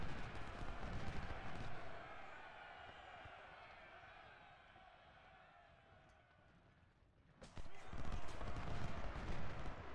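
Ultimate General: Civil War battle with artillery and rifle fire: a continuous rattling crackle of distant musketry mixed with low rumbles, easing midway then swelling louder again, a voice briefly speaking over it.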